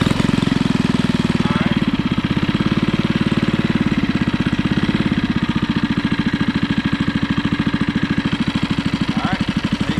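A small outboard engine on a Nucanoe Unlimited boat runs steadily with a fast, even, loud putter close by, revving slightly under a touch of throttle, while people talk faintly over it.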